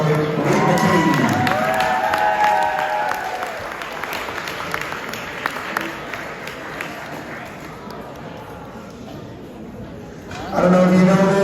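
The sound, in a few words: audience applause for a coach at a banquet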